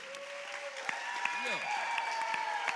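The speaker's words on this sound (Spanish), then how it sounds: "vamos a darlle un forte aplauso que merecen" Applause from an audience at a music contest, a continuous wash of clapping with a voice and tonal sounds rising and falling above it.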